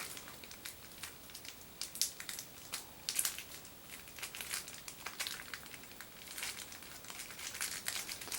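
Plastic packaging of a Bakugan BakuTech Jigen Deck toy crinkles and crackles as someone struggles to open it, with irregular close-up rustles and a few sharper crunches, no talking.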